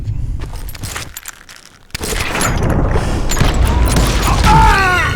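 Gunfire in the PC shooter Call of Juarez Gunslinger: after a quiet stretch, a sharp blast erupts and gives way to a dense, loud clatter of shots and booming impacts that continues to the end.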